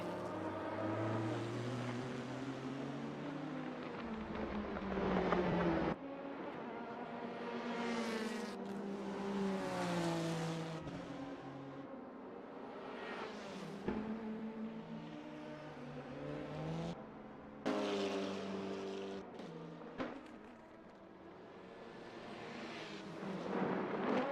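A Honda NSX GT3 race car's engine screams through repeated upshifts and downshifts on the Daytona road course, revs climbing and dropping in sweeping arcs, loud and close with brief cuts between gears.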